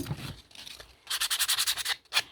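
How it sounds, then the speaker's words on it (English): Sandpaper rubbed briskly along an overhanging paper edge, a run of quick, close scratchy strokes with short pauses and a final stroke. "what hangs over the side, I just use some sandpaper"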